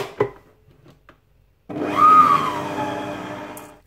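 An electric mixer whirs through cupcake batter of flour, baking powder and unsweetened cocoa, starting abruptly after a few soft clinks and running as a steady close motor whine until the end.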